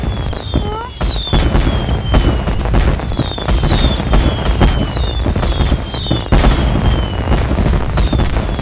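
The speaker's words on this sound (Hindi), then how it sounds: "हाँ, पटाखे कौन फोड़ रहा है?" Firecrackers burst in the Sakura School Simulator video game, a dense run of sharp cracks and pops with whistling rockets rising and fading, loud and continuous over a steady crackling bed.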